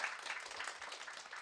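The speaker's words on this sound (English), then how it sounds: "Please, a round of applause for all of the speakers." Faint applause from an audience at a conference panel on technology-facilitated gender-based violence in ASEAN, a brief scatter of clapping heard from a distance.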